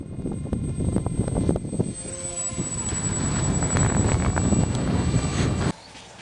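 An RC Eurofighter Typhoon model plane flies in high winds, a steady whining motor tone under heavy gusting wind buffeting, sustained for several seconds before cutting off abruptly.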